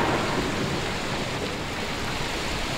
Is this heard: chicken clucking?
no